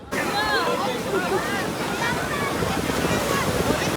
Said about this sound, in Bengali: পুরী সমুদ্র সৈকতে বিশাল জোয়ার চলছে, তো জল কিন্তু পুরো কাছে রয়েছে, আর বড় বড় ঢেউ আসছে